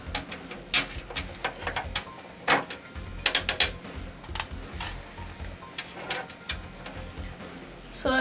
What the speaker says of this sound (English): Now the fan goes in here. And you screw in from the back.